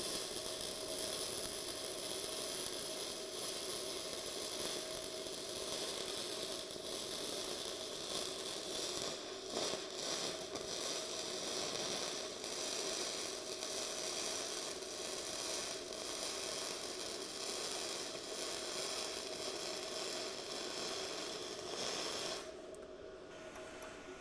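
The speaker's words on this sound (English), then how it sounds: "now we'll just weld this angle iron on the top" A cheap Bestarc mini gasless flux-core MIG welder lays a bead on angle iron, giving a steady crackling hiss that runs for over twenty seconds before stopping.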